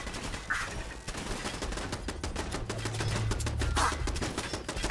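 Rapid machine-gun bursts in the Fallout 4 video game, loud and dense, with continuous rattling gunfire throughout and no voice over it.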